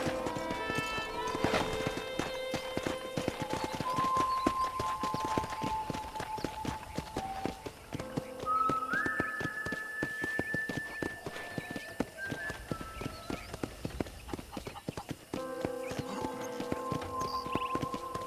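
Steady rhythmic clip-clop of horse hooves trotting along in Red Dead Redemption 1, with a whinny partway through and a looping game soundtrack underneath.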